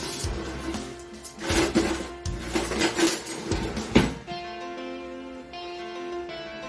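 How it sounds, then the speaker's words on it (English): A small spatula scrapes and knocks inside a metal tin, gathering the last of the banana bread batter. The rubbing strokes are close and irregular and are followed by lighter taps, with no talking. "I'm going to use a smaller spatula to get the remaining mixture from out of the tin."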